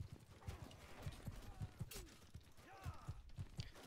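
Horses gallop in a video game battle, their hooves beating a steady, rapid clip-clop rhythm close up and fairly faint, with a brief whinny partway through and no talk over it.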